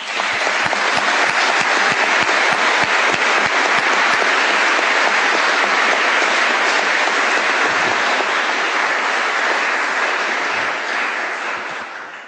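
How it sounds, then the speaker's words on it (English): A robing ceremony audience gives sustained, loud applause for a judge's family, a dense wash of many hands clapping that holds steady for about twelve seconds before tapering slightly at the end. "Would you please clap for these people in my family?"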